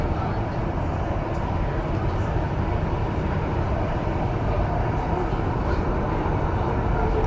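REM light rail train running on Montreal's A3 Anse-à-l'Orme branch, a steady dense rumble and broadband roar heard from on board, continuous and fairly loud with no break.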